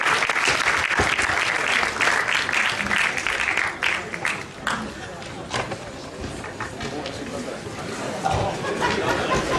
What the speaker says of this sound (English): let everybody give their hands of applause